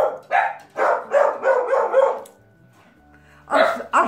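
Dogs bark loudly and close by, a rapid run of five or six sharp barks, then a brief pause before two more barks burst out.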